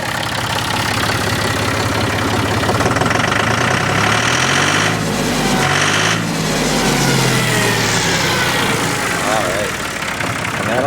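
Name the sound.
tractor engine idling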